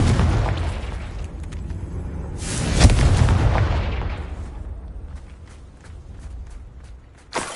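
A Confringo blasting spell goes off in Hogwarts Legacy with a heavy booming blast mid-clip, set against rumbling ambience with a lighter crack near the end and no talking.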